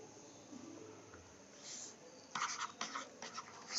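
A teacher wipes a classroom board with rapid scrubbing strokes, faint at first and then in quick close bursts, with no talk.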